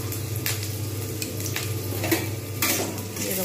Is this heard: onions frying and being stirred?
yes